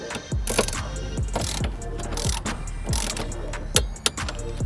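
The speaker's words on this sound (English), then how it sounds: "we're gonna torque these down to 31 foot-pound" A torque wrench ratchets bolts down tight during a car installation: rapid, close clicking bursts in repeated strokes, with a few sharper metallic clacks near the end and no talking.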